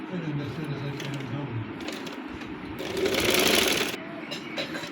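A sewing machine stitches the hem of a sharara, running in a fast rattling burst that swells for about a second, while a voice talks at times around it.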